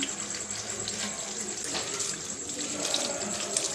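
Mangoes being washed under a running kitchen tap at home, with a steady close splash of water hitting fruit and sink throughout, continuous and moderately loud without talk.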